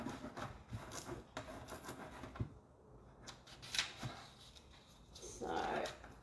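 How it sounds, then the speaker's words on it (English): A hand rubs over a reverse decoupage transfer on an old cabinet door, giving soft, close scuffing and brushing strokes in uneven bursts with light taps in between, fairly faint throughout. "I'm just going to give it a good rub over."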